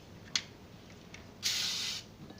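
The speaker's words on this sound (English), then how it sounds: "I like to spray my pans" Cooking spray hisses onto muffin pans: one very short puff, then a steady half-second spray, close and fairly soft against a quiet kitchen.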